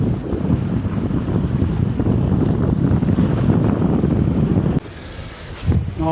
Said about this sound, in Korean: 파도가 점점 세지는데요. 파도가 위에까지 막 올라오는데 어떡하지?